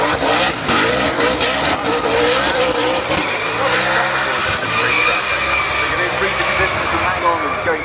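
A powerful race car accelerates hard up the Goodwood Festival of Speed hill climb, its engine roaring loud and close with shifting pitch and crackling exhaust under continuous commentary.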